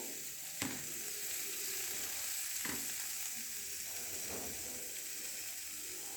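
Carrots and other vegetables for chicken fried rice hiss steadily in a hot pan, a constant close sizzle with a few faint clicks of a spatula.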